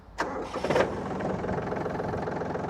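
A Yanmar F230 diesel tractor engine cranks briefly, catches within a second with a sharp burst, then settles into a steady, rhythmic knocking idle, close and fairly loud.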